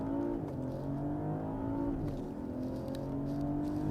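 A BMW X5 45e plug-in hybrid SUV accelerates uphill on a mountain road. The engine note climbs steadily, and pitch drops at quick gear shifts, heard from inside the cabin at a moderate level.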